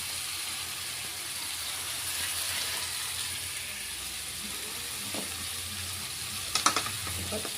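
Half a kilo of broiler chicken fries and sizzles steadily in a pan, with a soft continuous hiss and a few brief clinks of stirring near the end.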